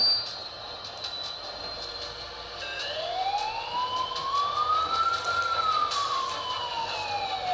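An ambulance siren in an Indian train simulator game wails in a single slow rising and falling sweep over a steady mechanical hum, moderately loud and clean like game audio.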